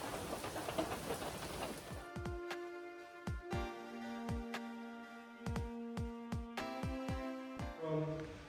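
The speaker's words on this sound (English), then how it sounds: "Rain, rain," Rain falls on the Pinhoti Trail in spring as a close, steady hiss for about two seconds, then gives way to plucked, ringing music notes.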